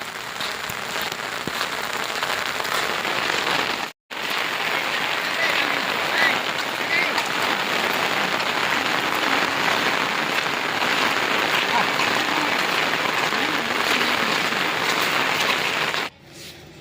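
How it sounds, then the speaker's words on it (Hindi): Heavy rain pours down on a paddy market, a dense, steady hiss of drops that keeps up loud and unbroken, with a brief gap near the start. "ई वर्षा देखो वर्षा"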